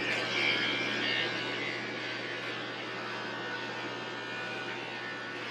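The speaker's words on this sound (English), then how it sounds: "we're going to use this special little clipper here and a special guard for this one" Electric hair clippers with a guard hum quietly and steadily during a boy's at-home haircut around the ears, a faint continuous buzz throughout.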